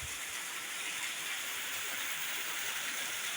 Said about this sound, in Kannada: ತುಂಬ ಜೋರಾಗಿ ಬರ್ತಾ ಇದೆ ನಮ್ಮೂರಲ್ಲಿ ಮಳೆ.